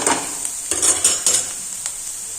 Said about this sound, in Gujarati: આ રીતના હાઈ ગેસની ફ્લેમ ઉપર આપણે અધકચરા સાતળવાના છે બધા જ વેજીટેબલ્સ